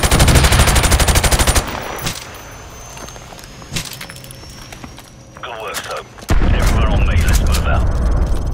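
Loud rapid gunfire from Call of Duty 4: Modern Warfare Remastered, with bursts of automatic fire at the start, scattered single shots and thuds in the middle, then a heavy sustained barrage near the end.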